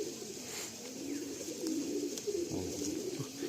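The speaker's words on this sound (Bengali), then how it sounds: "এটা ধাড়ি পায়রা, আমার কেনা পায়রা" Madrasi pigeons coo softly and repeatedly at close range, low murmuring calls layered over a steady background hum, with a few brief sharper sounds near the end.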